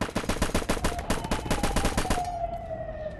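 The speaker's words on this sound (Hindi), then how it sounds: "इसने तो मेरे पे ही फायरिंग शुरू कर दी।" Loud rapid automatic gunfire in a video game, a fast string of sharp shots lasting about two seconds that then stops, leaving a sustained rising siren-like tone alone.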